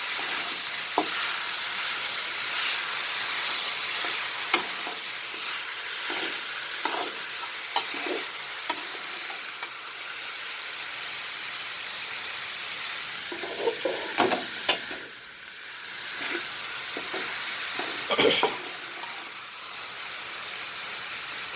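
Urad dal, cumin and pepper sauté in oil with garlic, a little ginger, shallots and tomato for pirandai kuzhambu: a continuous close hiss with scattered stirring clicks and scrapes, briefly dipping midway, no talking.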